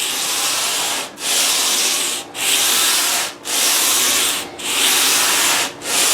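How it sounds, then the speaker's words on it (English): Steady strokes of sanding across a Fender Stratocaster fingerboard, flattening its radius from 9.5 to 14 inches, five long even rubbing passes with brief pauses between them, close and loud with no talking. "I'm concentrating on the center, and like I'd mentioned in other videos, it's actually a conical shape that you're sanding"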